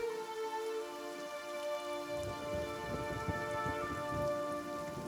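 Rain falling in the Pillars of Eternity video game, a soft, steady patter of drops that swells in after a couple of seconds beneath sustained, tonal background music.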